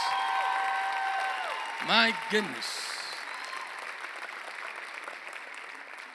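Church congregation clapping for the youth ministry at a special service, a fairly faint, steady patter running under a man's brief spoken exclamation and a sustained musical tone.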